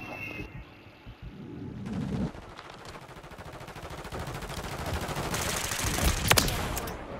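Bursts of automatic gunfire crackle through a chaotic Call of Duty firefight, rising in density toward the end with a sharp report near the close, no voices over it.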